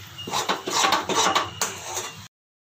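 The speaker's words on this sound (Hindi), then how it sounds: "आइए हिला लेते हैं" A spoon stirs a thick sesame seed and groundnut barfi mixture in a pan, making several close, loud scrapes and clinks over about two seconds before it suddenly goes silent.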